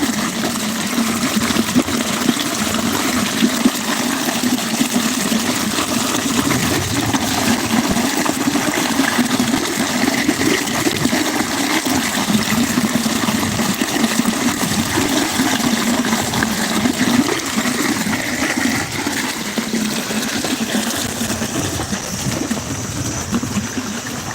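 Water gushes steadily from a farm motor pump, a continuous loud rushing flow with a low hum beneath it and occasional bird calls, going on for over twenty seconds without talk.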